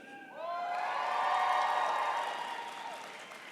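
Graduates at a CU Denver fall commencement ceremony cheer and applaud together, a sustained swell of whoops, shouts and clapping that builds quickly, peaks, then gradually tapers off.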